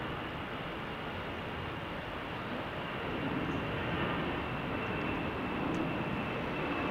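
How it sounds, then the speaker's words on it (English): A Delta Airbus A319 airliner taxis and departs at Salt Lake City airport: a steady, broad jet roar that swells a little louder partway through, with no voices. "As we check out this Airbus A319 departing"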